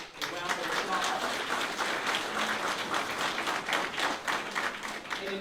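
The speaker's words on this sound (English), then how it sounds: "Let's give her a round of applause." A luncheon crowd at the Urban League of Northwest Indiana awards claps for the board chair, a sustained wash of many hands that stays fairly even, heard at a modest distance with faint voices mixed in.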